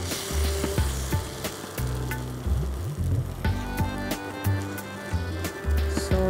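Rava semolina dosa batter sizzling on a hot pan, a continuous crackling hiss punctuated by intermittent scraping and tapping knocks of a utensil, close and fairly loud.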